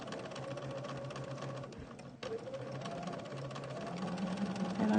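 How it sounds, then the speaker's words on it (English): A Singer 301 sewing machine stitches fabric for an abstract wildflower art quilt, running at a slow steady pace with a continuous mechanical whir and rattle that briefly pauses before resuming and building slightly louder. "I'm just catching it with the needle and stitching it down."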